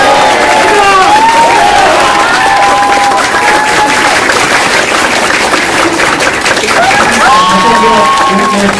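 A large crowd at an election rally in Mapo applauds loudly and continuously, dense clapping mixed with cheers and shouts, with voices calling out over it.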